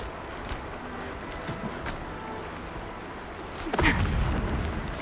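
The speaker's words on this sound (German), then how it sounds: "Entfernte Explosion." A distant explosion in the video game Horizon Zero Dawn, a deep rumbling boom that swells near the end over steady game ambience and scattered clicks.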